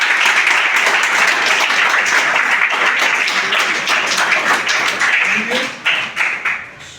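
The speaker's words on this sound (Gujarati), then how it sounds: "તો એકવાર તમે તાળી પડી દો પ્રશ્ન માટે" A school audience gives a round of lively clapping at a programme, dense and loud at first, then thinning into scattered separate claps as it fades, with some voices mixed in.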